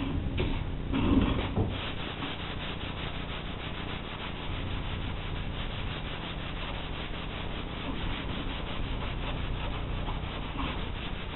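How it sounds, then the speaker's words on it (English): Steady rhythmic sanding of primer across a whole repair area with 320-grit sandpaper, a continuous close scraping rub with even back-and-forth strokes and no talking. "I'm going to sand the whole area, which is going to level this, this, and this all together as one."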